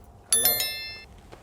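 A notification bell sound effect rings out with three quick, bright dings in a row, each ringing on and fading out, with a faint voice underneath.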